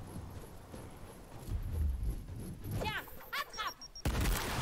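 Grenade thrown and exploding in Gears Tactics: muffled combat rumble and gunfire under talk, then a sudden loud blast near the end, with chirping game sounds just before it.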